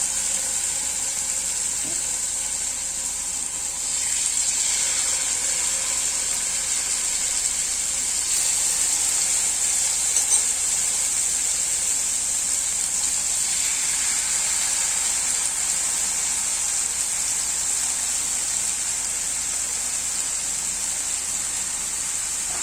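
Chicken sizzles in a hot pan with a steady, high-pitched hiss that continues evenly at close range with no talking.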